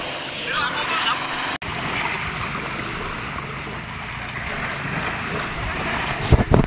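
Strong wind roaring across the microphone with a steady wash of sea surf beneath on a sandy beach, continuous and loud, with a brief cut and some clatter near the end.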